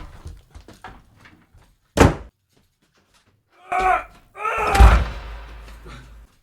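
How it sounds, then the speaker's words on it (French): A heavy door in a live radio studio thuds shut once with a sharp, loud knock, followed moments later by people talking. "Putain, moi aussi, je vais claquer la porte."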